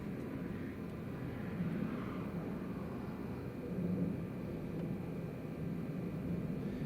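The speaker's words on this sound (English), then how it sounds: "Oh, Air France is back on the approach" An Air France airliner on approach at Newcastle Airport makes a steady, distant jet roar, a broad even rumble that swells slightly midway and holds without a break, with no talking.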